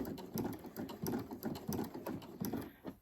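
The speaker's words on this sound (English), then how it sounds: "Sew all the way to the corner, but stop about 1/4 inch away from the edge." Sewing machine stitching quilt binding along a corner, a close, steady rhythmic chatter of needle strokes in quick pulsing bursts with no talk.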